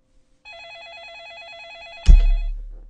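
A telephone ringtone with a warbling electronic trill rings steadily and clearly for about a second and a half, then cuts off abruptly with a thud.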